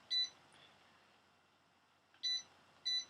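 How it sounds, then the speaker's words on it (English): Three short electronic beeps from an Arizer Extreme Q 4.0 vaporizer: one near the start, then a pair after a long pause, clear and close with nothing else over them. "you can hear that beeping"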